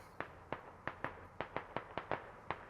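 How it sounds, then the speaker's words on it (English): Mortar shells burst one after another in an Arma combat match, about ten sharp cracking blasts spaced roughly a third of a second apart, fairly distant and moderately loud over quiet background noise. "Mortars are now incoming"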